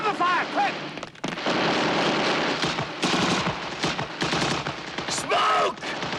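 Sustained machine gun fire in a World War II battle scene, rapid bursts with explosions and shouting voices mixed in, loud and close throughout.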